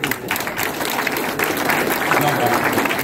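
Crowd applause for Carla at a village saint's day fête near a war memorial, a dense steady clapping that fills the moment at close range with some voices mixed in.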